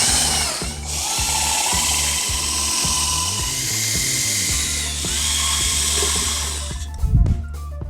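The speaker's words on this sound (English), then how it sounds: "we want to secure the rail section to the clips with our 3/4 inch tech screws, top and bottom, both sides" Power drill driving 3/4 inch tech screws into aluminum stair railing clips, a loud steady motor whir pulsing in short bursts, ending with a brief clatter.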